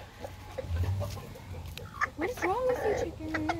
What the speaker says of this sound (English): That's the rooster.